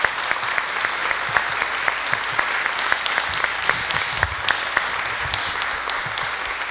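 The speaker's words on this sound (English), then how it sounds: "I think we can do a round of applause." Sustained audience applause for forum panelists, many hands clapping steadily at moderate volume throughout with no talk over it.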